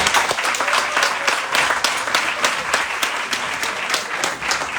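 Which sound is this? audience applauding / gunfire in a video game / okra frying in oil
audience applauding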